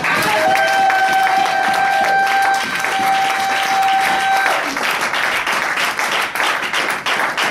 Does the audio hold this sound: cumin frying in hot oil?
no